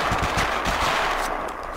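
Rapid automatic gunfire from the shooter game Totally Accurate Battle Zombielator, dense overlapping bursts rattling on continuously, loud and close, with no talking.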